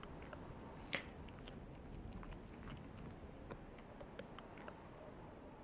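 Frampt, a huge creature in the game Dark Souls Remastered, chewing with soft wet biting and crunching clicks that repeat irregularly and stay faint behind a steady low rumble, with one sharper snap near the start.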